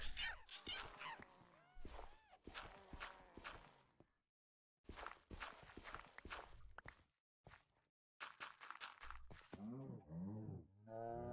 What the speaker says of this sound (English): Oh, there's our cows.